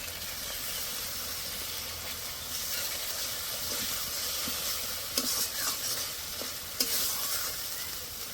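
Fennel paste and a splash of water hitting ginger and garlic frying in a pan, giving a steady broadband sizzle with stirring scrapes and a couple of sharper clinks near the end, fairly close and with no voices.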